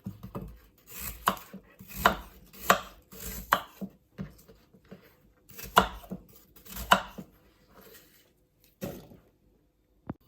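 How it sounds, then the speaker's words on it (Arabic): A knife chops apples into cubes on a cutting board, giving close, uneven clusters of sharp thuds with short pauses between bursts, then slowing to a few last taps. "ابخي نقطعها مكعبات"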